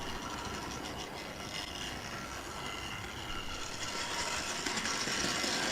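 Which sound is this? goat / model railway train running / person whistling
model railway train running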